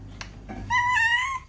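A domestic cat gives one clear, drawn-out meow after a few soft rustles, close and fairly loud in a quiet room.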